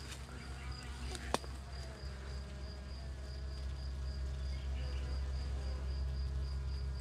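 Honey bees clustering in a ball on an artificial swarm hive; a faint, steady buzzing hum fills the whole stretch, with one sharp click early on.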